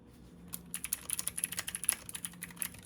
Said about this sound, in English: When I first started typing, I was making mistakes left and right, and I couldn't get used to the horrible high-pitched sound of these switches.